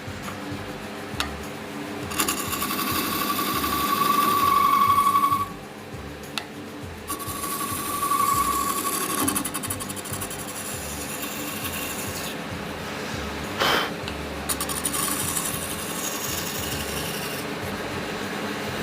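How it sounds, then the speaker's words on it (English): A wood lathe turns a brown mallee burl shaving-brush handle, giving a continuous rasping, scraping whir as a tool cuts the spinning wood, with short pauses and shifts in intensity. "And we'll speed up the lathe a little bit."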